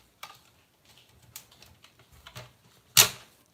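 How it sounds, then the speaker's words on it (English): Small snips and clicks from a cuticle cutter cutting open packaging, sparse and close, ending in one louder crisp snap. "My cuticle cutter is opening this for me."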